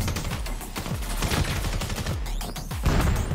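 Rapid bursts of gunfire ring out in the VR shooter Vail VR, loud and close, with dense overlapping shots and a heavier volley near the end.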